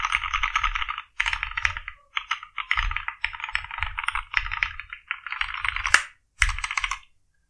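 A Moonlander Mark I keyboard with Cherry MX Brown switches is typed on up close in rapid bursts of clacky keystrokes, separated by short pauses and ending in a few isolated taps.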